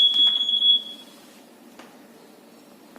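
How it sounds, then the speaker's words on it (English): A robotics-activity drawer alarm set off by a motion sensor sounds as a single sustained high-pitched electronic tone for under a second, then stops, leaving faint room noise and a few small clicks. "when we are opening the drawer, see, the alarm is being played"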